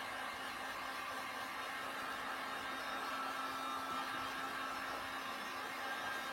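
A heat gun blows steadily over a plastic plate to soften it, a constant faint whooshing hiss with a low hum underneath, no talking.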